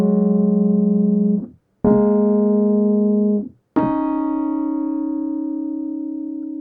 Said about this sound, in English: And then we can also make the notes really close together and get crunchy sounds like